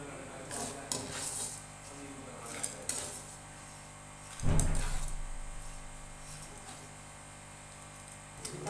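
Roasted black chickpeas being scooped from a pan make scattered scraping and clinking, then a louder dull clatter midway, followed by light rattles.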